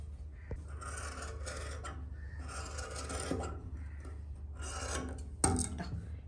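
Scissors cut through fabric for kurti necklines, two necks cut together, giving a steady rasping snip-and-slide texture over a constant low background hum, close and moderate in level.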